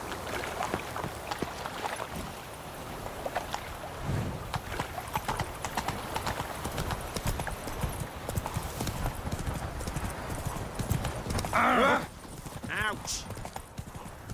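Roach, a horse in a video game, gallops with rapid rhythmic clip-clop hoofbeats throughout and a brief whinny near the end, while someone talks over it.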